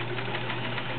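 An all-metal Kenmore 1430 sewing machine stitches through six layers of denim with a size 16 needle, a steady close mechanical hum and rapid chatter running evenly throughout, with no talking.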